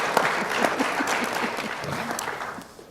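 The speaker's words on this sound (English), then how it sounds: "Let's have a round of applause for our candidates for probate judge in San Juan County." Audience members at a San Juan County primary election candidate forum give a round of applause for the probate judge candidates, a dense burst of clapping that starts strong and gradually fades out.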